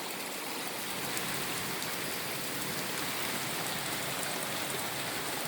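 Heavy December thunderstorm rain in the south, pouring down steadily as a dense, constant hiss with no breaks, fairly close, with no voices and no audible thunder.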